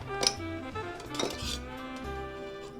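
Ice clinking into a glass as a Bobby Burns cocktail is stirred, a few bright clinks and taps of ice and spoon against glass over a low background hum.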